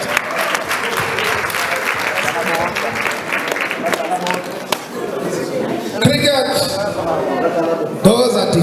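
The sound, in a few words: audience applause at a sports awards gala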